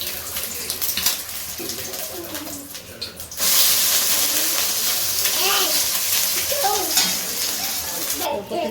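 Quiet kitchen sounds give way to a sudden, loud sizzle as an egg hits hot oil in a wok. The steady frying continues under a speaking voice.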